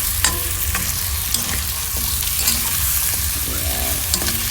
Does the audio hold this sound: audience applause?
no